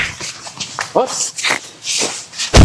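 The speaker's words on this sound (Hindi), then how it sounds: "कुत्ते आ गए" Dogs arrive close by with whimpers, short yips and shuffling movement, mixed in among people talking.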